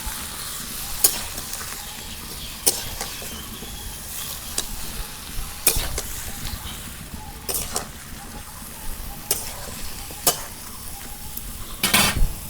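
Cauliflower with a little salt cooks in a pan, giving a steady soft sizzle broken by occasional sharp clinks of a utensil against the pan.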